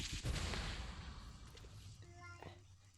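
Booming blasts and sharp bangs from Minecraft explosions rumble in quick succession, then fade into quieter electronic tones and tinkling effects.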